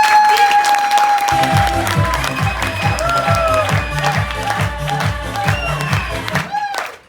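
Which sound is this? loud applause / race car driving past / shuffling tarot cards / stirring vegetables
loud applause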